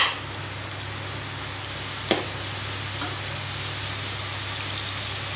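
Paruppu keerai gravy made with lentils, greens and tamarind bubbles in a pan, a soft continuous simmering hiss with a couple of faint pops, heard alone without talking.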